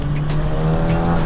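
Honda Civic Type R accelerating, a loud steady engine drone heard from inside the car, sustained and strong with no talking.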